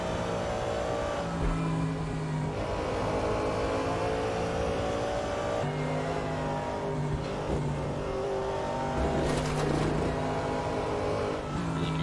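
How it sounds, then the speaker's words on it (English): Callaway Corvette C7 race car with a 6.2 liter V8 at Mount Panorama, its engine roaring loud and close from onboard, revving up and down through gear changes under hard acceleration and braking. "hear the engine of that Callaway Corvette C7 working overtime, both in pushing and slowing down this this heavy car"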